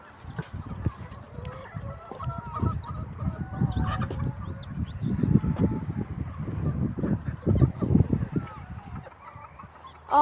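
Rooster crowing and hens clucking in a farmyard with a strong, aggressive cock among the flock; loud busy fowl calls and scratching throughout, a few short cackles, no talk.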